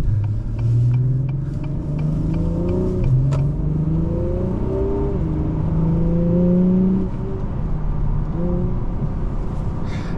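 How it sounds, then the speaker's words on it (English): A 2023 Acura TLX Type S with its 60-degree V6 pulls hard through the gears, engine note rising steadily then dropping at each shift, loud and close from inside the cabin with no talking. "Being a 60 degree V6, this thing sounds awesome."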